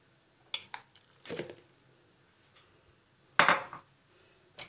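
Kofta ingredients dropped into a mixing bowl for grilled chicken kofta, giving a few separate clinks and soft thuds of dishware and food landing, close by and moderately loud, with quiet gaps between them.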